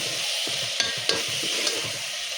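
Ginger stirred in a hot pan for a wedding-style mutton curry, a steady close sizzle of frying with scraping strokes and a few sharp clinks of the spoon against the metal.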